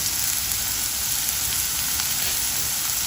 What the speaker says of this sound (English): And just saute them for a couple of minutes.